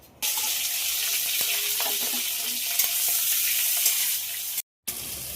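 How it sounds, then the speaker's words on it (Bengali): Shrimp dropped into hot oil with turmeric and salt sizzle loudly and steadily in a pan, close up, with a few light stirring knocks and a brief cut near the end. "তেল গরম হয়ে গেছে, এবার ভাজার জন্য চিংড়ি মাছগুলো দিয়ে দেবো।"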